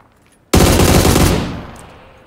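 Gunfire from an AUG assault rifle in the video game PUBG: one loud, dense automatic burst of about a second that then trails off into a fading echo.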